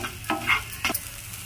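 Spoon stirring onion and spice masala in a frying pan for onion kachori filling, two short scraping strokes with light sizzle, close and alone.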